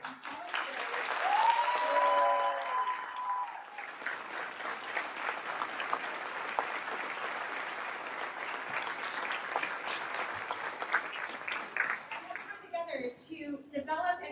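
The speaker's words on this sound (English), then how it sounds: "if everybody will give a round of applause to these amazing individuals and volunteers" An audience at a school district solutions forum gives a sustained round of applause, a dense steady clapping wash with a brief tone early on and talk returning near the end.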